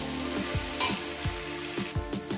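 Potatoes fry in oil in a pan over a medium gas flame, a steady close sizzle broken by intermittent scraping and stirring taps of a spatula against the pan.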